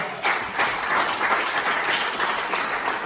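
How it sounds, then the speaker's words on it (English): Audience applause fills a room at a Democratic party annual fall dinner in Warren County, a steady, dense wash of many hands clapping heard from within the crowd for about three seconds, with no voices on top. "you can applaud for that, I'd applaud for that"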